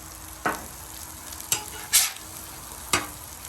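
Hamburger patties for Salisbury steak are flipped in a pan cooking over low heat: four sharp spatula scrapes and thumps sound over a soft, steady sizzle, close by and without speech.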